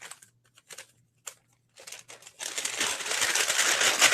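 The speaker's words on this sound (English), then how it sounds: "I'm going to get my bag ready," A bag is handled and crinkled up close, first in scattered short rustles and taps, then in a continuous louder crackling scrunch.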